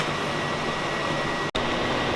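An electric fan runs in a home kitchen while the oven is on, giving a steady, fairly loud broadband whoosh with a faint hum that is briefly cut off near the end.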